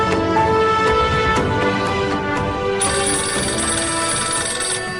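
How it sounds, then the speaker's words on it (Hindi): A telephone rings steadily in an indoor drama scene, its electronic ringtone repeating in a continuous pattern and heard close and clear with no talk over it. "फोन की आवाज नहीं आ रही है क्या?"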